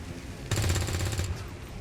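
A short burst of rapid gunfire aimed at a relay in XCOM 2, a dense rattle of shots lasting under a second over a quiet background.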